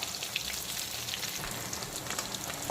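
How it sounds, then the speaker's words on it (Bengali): Parshe fish fry in hot oil on full flame, making a dense, continuous crackling sizzle that stays close and even throughout, with no voices. "এখন পার্শে মাছের উল্টো দিকটাকেও একইভাবে ভালো করে ভেজে নেব।"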